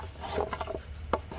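A Stanley spokeshave rasps in short, quick strokes along a rough wooden edge, each pass a dry scraping rub heard up close with no voices.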